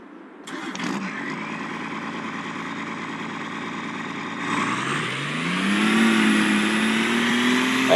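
A truck engine in Farming Simulator 22 starts up, settles into a steady idle, then revs higher and holds a rising drone, close and loud with no talk.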